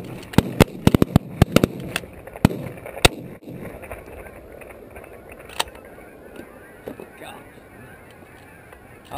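Gunshots on a duck and goose hunt in Oklahoma, a rapid cluster of sharp cracks early on then scattered single shots, with geese honking and people talking in the background.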